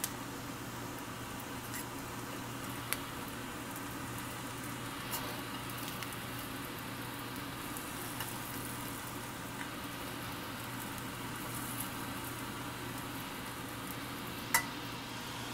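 Fried rice with chicken, shrimp and fresh garden green onions frying in a pan, a steady soft sizzle running throughout with a few faint clicks of a utensil, fairly quiet and close, no talking.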